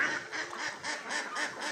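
Ducks at a duck and fish farm quack in a quick repeating series of nasal calls, about six bursts in under two seconds, fairly close but soft.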